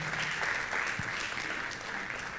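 Congregation clapping in a church during a Sunday service, a steady dense patter of many hands filling the room at moderate level, continuous throughout with no voices standing out.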